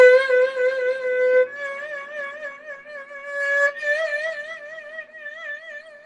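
A Chinese bowed string instrument plays sustained notes with pressing vibrato, its clear tone wavering steadily, heard alone and close with a slight change of pitch partway through.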